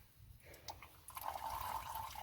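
Used engine oil from a 2003 Dodge Ram 2500 V10 drains into a pan, starting as a faint trickle, then swelling into a steady, close pouring stream.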